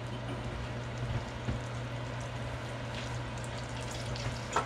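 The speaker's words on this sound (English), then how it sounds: "I'm gonna melt the stick of butter." A stick of butter melting over low heat in a pot for lobster bisque, giving a soft, even sizzle and gentle bubbling up close, steady throughout, with no speech.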